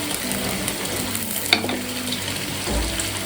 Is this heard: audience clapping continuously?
no